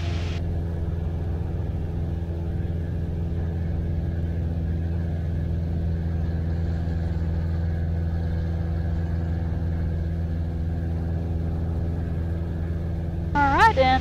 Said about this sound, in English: do you hear the engine revving?